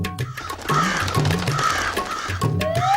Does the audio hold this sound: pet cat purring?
no